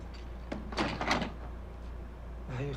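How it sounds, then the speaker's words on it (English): A door slams shut in a scene from the TV show LOST, one sharp close thud over a low constant hum, with brief talk and reactions around it. "Deacon Sawyer slams the door."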